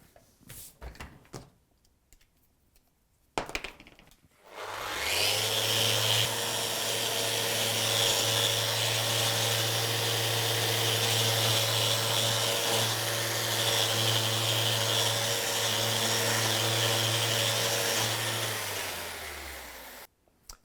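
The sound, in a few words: electric sanding of cricket bat facing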